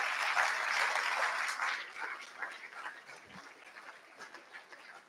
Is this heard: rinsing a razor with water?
no